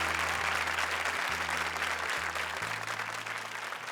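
Studio audience at a televised comedy show applauding steadily, a dense wash of clapping filling the whole stretch, with a low sustained musical tone underneath that steps in pitch.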